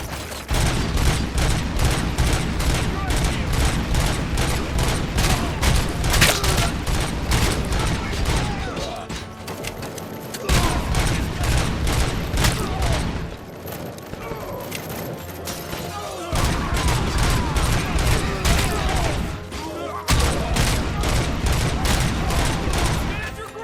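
Sustained heavy gunfire from the RoboCop: Rogue City video game, rapid repeated shots in loud continuous volleys with brief pauses, with voices talking over the shooting.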